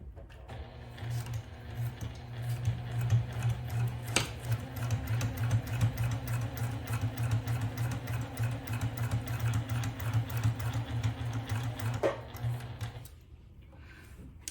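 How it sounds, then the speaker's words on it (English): Sewing machine stitching a zipper pouch seam at a steady, fast running hum with rapid needle clatter, loud and close, starting and stopping briefly near the end. "I'm gonna start to sew."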